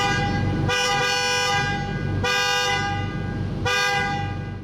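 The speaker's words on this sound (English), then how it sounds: "Instead, it's a boring, generic, regular horn." Three long blasts from the plain factory horn of a 1998 Lamborghini Diablo SV, each steady tone held about a second or more, with brief pauses between and an engine idling underneath.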